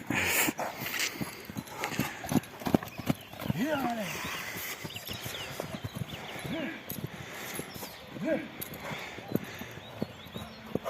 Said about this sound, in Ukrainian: Ти знаєш, який це кінь тобі буде вдячний, що ти його вигуляв.